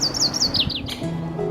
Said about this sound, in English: It's just so wonderful to hear birds again.